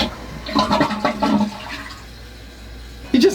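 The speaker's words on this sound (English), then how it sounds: "you just can't do a bathroom skit without it ending with the sound of a toilet flushing" A toilet flushing in a gothic-styled apartment bathroom, a muffled gurgling rush that fades to a quiet hiss, with a soft clunk at the end.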